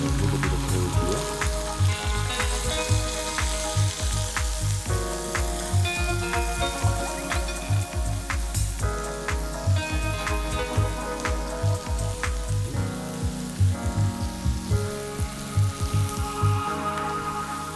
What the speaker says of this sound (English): So our minute steak here has been cooking for approximately between 7 and 10 minutes.